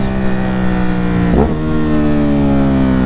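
A Ducati Hypermotard SP motorcycle engine hums steadily up close, drops briefly in pitch as if through a gear change, then climbs smoothly again in a continuous rising drone.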